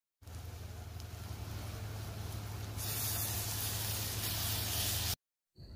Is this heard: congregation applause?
no